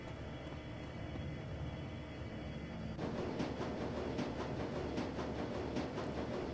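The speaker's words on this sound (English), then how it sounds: "the train rumbles its way toward Brandenburger Tor" A train in the video game Shadowrun: Dragonfall rumbles steadily with a dense, continuous low roar that grows louder and busier after a few seconds, with rhythmic clacks overhead.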